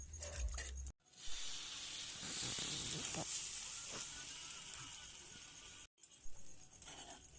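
A soft, continuous hiss and sizzle of gram flour chutney bubbling in a pan on the heat, quiet and close, briefly cut off twice.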